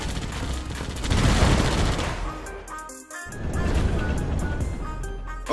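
A Patriot missile battery fires in Red Alert 2: Yuri's Revenge, giving two dense bursts of launch and blast noise separated by a brief gap, loud and close in a busy multiplayer battle.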